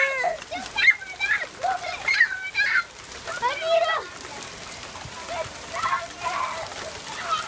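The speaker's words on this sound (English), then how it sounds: "Holy, it's really coming down." Rain pours down steadily with a constant hiss and splatter while children's voices chatter and call out excitedly over it.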